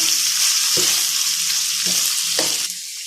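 Mutton frying in a pot for biryani, a dense steady sizzle throughout with a few soft stirring knocks, close and continuous with no talk.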